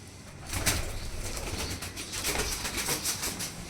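Pigeons cooing from inside a building duct, soft and somewhat distant, repeated low calls over a steady background hum with faint flutter.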